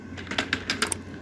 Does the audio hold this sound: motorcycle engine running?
no